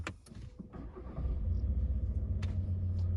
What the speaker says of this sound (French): je vais démarrer immédiatement la voiture pour que vous puissiez un petit peu écouter en même temps que moi s'il n'y a pas de bruit anormal